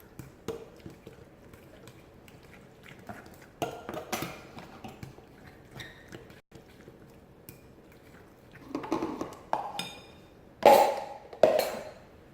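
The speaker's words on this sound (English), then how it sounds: "I'm going to add it to the sweet potato and mix it really well" Intermittent clinks and taps of a utensil against a bowl while liquid ingredients are mixed into sweet potato, quiet at first and building to louder clatters near the end.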